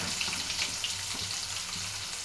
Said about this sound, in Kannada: ಹಾಕ್ಕೊಂಡು ನೀಟಾಗಿ ಫ್ರೈ ಮಾಡ್ಕೊತೀನಿ ನೋಡಿ